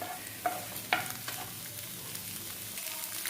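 Egg fries in a non-stick pan while a spatula stirs it, making a soft, quiet sizzle broken by two sharp utensil taps early on and faint scraping afterward.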